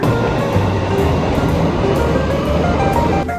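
Steady, loud rumble of a London Underground train at a station, a continuous low roar with faint rail clatter running throughout and no speech.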